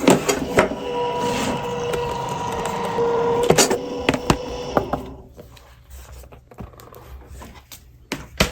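An AccuQuilt fabric cutting machine feeds a loaded die board through with a steady mechanical whir and clicks, then quiets, leaving sparse knocks and handling sounds close by.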